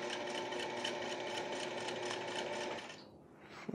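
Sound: sewing machine sewing down shirt collar edges

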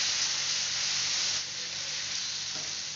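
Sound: sautéing shallots, garlic and spices in pan

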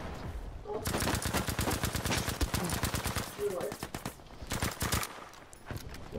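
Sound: gunfire in Battlefield V video game

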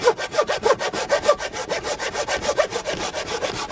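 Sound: hand saw cutting wood

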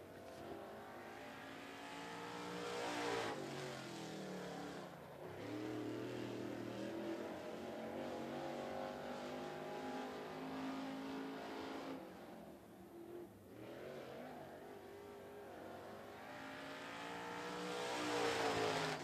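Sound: race car lapping at 411 Motor Speedway

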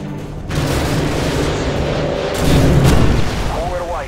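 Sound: AGM missile strike explosions from Call of Duty MW2 video game

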